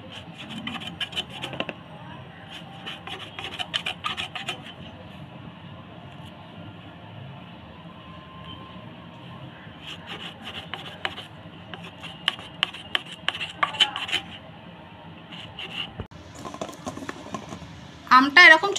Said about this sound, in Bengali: আমটা এরকম ছোট ছোট টুকরো করে কেটে নিয়েছি।